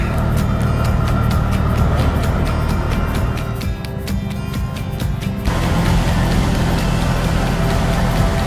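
A tuk-tuk engine drones loud and close throughout the ride, a steady rough motor rumble with a rattling buzz that shifts briefly midway, and no voices.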